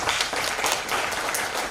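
A burst of lively applause at the Tanzania Health Summit 2022, many hands clapping densely and loudly without pause.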